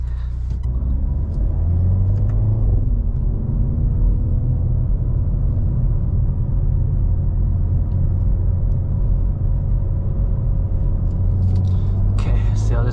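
A Hyundai Veloster N with a dual-clutch transmission being driven, its engine and road noise forming a loud, steady low rumble heard from inside the cabin, with a brief voice near the start.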